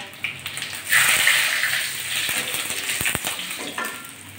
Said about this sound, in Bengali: আমি 1 চামচ 5 ফোড়ন দিয়ে দিচ্ছি, আর দিয়ে দিচ্ছি তেজপাতা আর শুকনো লঙ্কা।